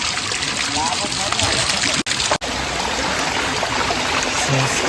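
Mountain spring water, drunk as mineral water in the hills, rushes down with full force through a pipe connection: a loud, close, steady wash of flowing water broken by two brief cutouts, with a voice faintly beneath.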